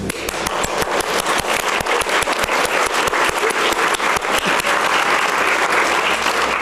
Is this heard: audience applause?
yes